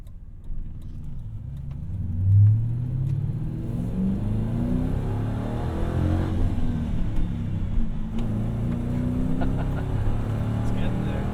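A Ford Crown Victoria with the 4.6 V8 and a manual gearbox revs and pulls hard under acceleration, a deep throaty rumble rising and falling through the gears, loud and close, with someone talking over it.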